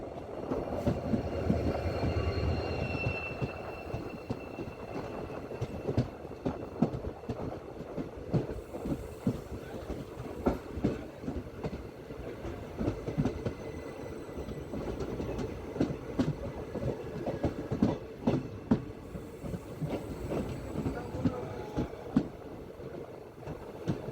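Maharashtra Express led by a WDP4D diesel locomotive at Sangli railway station, its wagons rolling past with steady clickety-clack and a continuous close, loud rumble throughout, with faint wheel squeal at times.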